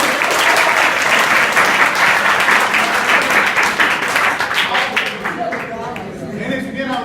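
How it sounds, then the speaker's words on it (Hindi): Students in a school hall at an inter college adolescence education programme break into sustained, dense applause that fills the room, easing off slightly toward the end. "ताली बजाने के लिए"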